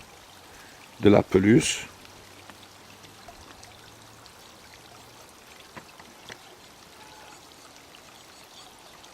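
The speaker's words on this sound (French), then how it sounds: "une petite cascade au fond" A small garden waterfall spills into a pond, a steady faint rush of flowing water in the background, with a short burst of speech near the start.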